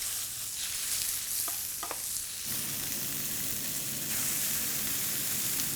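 Beef dropped into a pan of hot neutral oil bursts into a loud, steady sizzle that continues unbroken, with a few brief clinks near the start and an extractor fan adding a broadband hiss behind it.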